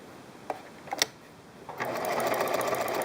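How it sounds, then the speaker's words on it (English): Sewing machine stitching along the edge of a pet blanket, starting after a few soft clicks and settling into a steady, close, continuous whirring run. "Sew along the next edge, then make the last pivot turn."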